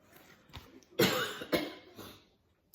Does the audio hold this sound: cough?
yes